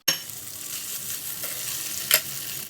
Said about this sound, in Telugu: ఈ ఆయిల్ హీట్ అయిన తర్వాత ఈ చేమదుంప ముక్కల్ని ఇలా వేసి ఒక్కసారి ఈ విధంగా కలుపుకొని